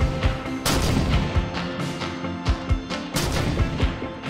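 Sniper rifle shots in a Halo and Valorant video game montage, a series of sharp, loud booming reports fired in irregular succession over a busy mix of other sound.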